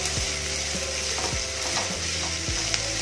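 Onions sizzle in a hot pan while a spoon scrapes and stirs them in repeated strokes, loud and close, with the frying hiss continuous underneath and no talking.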